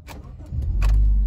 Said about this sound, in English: That will let us start the engine.